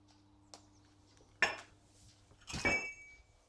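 A milling machine's gear lever on a new mill springs back into place after a speed change, giving two sharp metallic clunks about a second apart, the second ringing longer, with a faint tick just before them.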